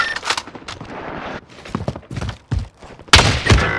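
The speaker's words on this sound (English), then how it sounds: "Receiving hostile fire." Hostile gunfire in the Warzone video game: bursts of sharp shots and thuds, some close and loud, others duller, with a fresh loud volley near the end.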